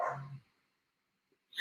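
One muffled dog bark from afar, then near silence with another bark just starting at the end.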